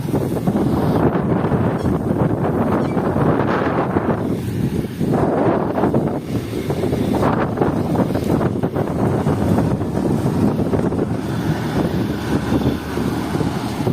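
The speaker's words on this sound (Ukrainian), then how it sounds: "Вітер трепеще, навіть не може камеру сфокусувати" Heavy wind buffets the microphone in a barley field during harvest, a loud continuous roaring rumble with gusts swelling and easing.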